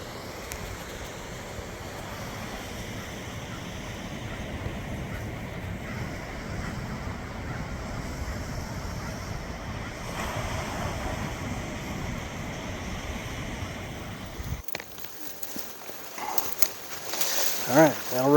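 Steady surf washes onto a small beach at Cape Disappointment State Park on a rainy day, with wind buffeting the microphone and a broad constant roar that breaks into quieter, choppier splashes near the end.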